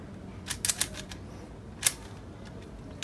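Speed cube YJ Yushi v2 M turned and corner-cut by hand, giving a few sharp plastic clicks and clacks in a quick cluster, then a single louder snap and a faint one near the end, close and otherwise quiet.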